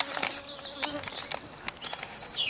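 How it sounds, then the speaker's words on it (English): A honey bee buzzes close by outdoors, its whine swooping and shifting in pitch as it darts around in repeated short passes, with faint background sounds. "there's already a flipping bee around me"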